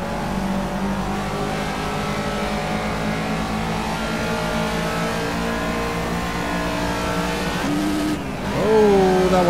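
A Caterham race car from the Caterham Academy series in the game Project Cars, its engine droning loud and steady on track through a long pull, then dropping and revving back up near the end with a quick swell.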